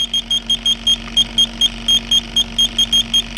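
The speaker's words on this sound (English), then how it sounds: "when I go up behind the compressor, I get quite a few beeps" An electronic refrigerant leak detector on high sensitivity, held behind the compressor of a GMC Acadia's AC system, gives off a steady train of short, evenly spaced high beeps over a low constant hum, with no talking.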